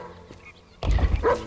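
Dogs in a Minecraft-style megabuild of a hobbit town, a brief low sound then a burst of close barking and yipping near the end, fairly loud and alone.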